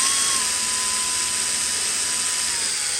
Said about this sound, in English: I'm gonna go ahead and drill in one and see how that works